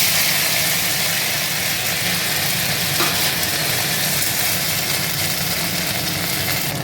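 Ground cumin, coriander, ginger paste, chilli powder and green chillies sizzle loudly in hot oil left from frying fish, a steady, even hiss that fills the whole stretch.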